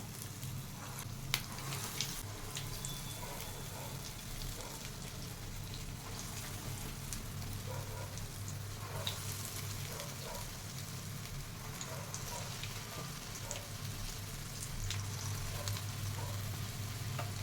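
Dahi vada batter frying in hot oil gives a continuous soft sizzle and crackle, close and fairly quiet, with occasional sharper pops scattered through and no voices.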